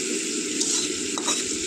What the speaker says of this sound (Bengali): তেল গরম হয়ে গেছে, আমি বড়িগুলো দিয়ে দিচ্ছি। এক একে সব বড়িগুলো দিয়ে দিলাম, দিয়ে লাল লাল করে ভাজবো